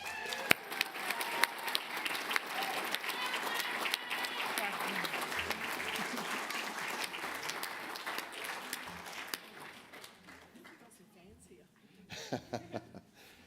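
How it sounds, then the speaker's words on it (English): A roomful of people at a mining club scholarship awards event applauds the winner, a dense clatter of clapping with a few laughs that fades after about nine seconds into quieter talk. "healthy round of applause for Charlie winning that one"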